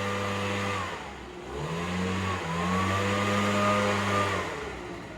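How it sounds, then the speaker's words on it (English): A Tesla car creeps forward inside a garage under key fob Summon, giving a close, steady mid-pitched electric whine and hum with slight rises and dips in tone, no voices. "now I'm gonna press the front, and the car is gonna start moving inside the garage"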